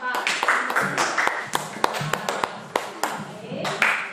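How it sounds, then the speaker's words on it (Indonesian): A fifth-grade class claps for a student group, sparse and uneven, with distinct separate claps and taps at close range rather than a dense wash, interrupted by a nearby voice. "tepuk tangan untuk kelompok 4"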